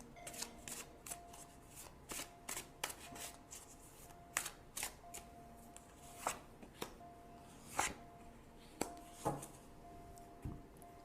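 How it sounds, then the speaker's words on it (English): Tarot cards shuffled and drawn by hand, soft close riffling and flicking in quick irregular bursts with small taps and slides between them, quiet and alone without talk. "Now I'm going to choose 2 cards for possible outcome."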